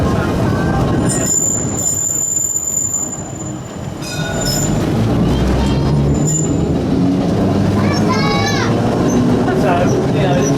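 A Ballarat heritage tram, a former Geelong tram, running along its track with loud continuous rumble and a high wheel squeal, while people talk nearby over the steady noise.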